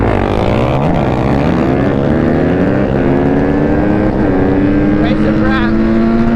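A quad and a Honda dirt bike race side by side, with engines roaring loudly and steadily close by and pitches climbing and shifting as they accelerate, while people talk over the noise.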